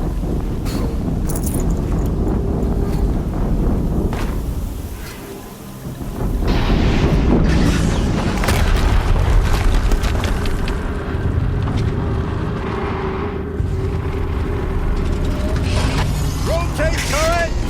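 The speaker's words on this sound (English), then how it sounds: "Another explosion." Rumbling, explosive blasts in the game Horizon Zero Dawn, a dense, loud roar of booms and debris that swells and dips across the stretch, with a brief lull before a renewed heavy blast.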